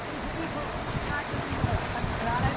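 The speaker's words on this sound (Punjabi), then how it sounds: "ਇੱਧਰ ਤੇਜ਼ੀ ਪਾਣੀ ਦੀ ਦੇਖੋ ਕਿੰਨੀ ਚੱਲ ਰਹੀ ਹੈ" Fast-flowing floodwater rushing past during a flood, a steady broad wash of moving water with small splashes, heard close, with a voice talking over it.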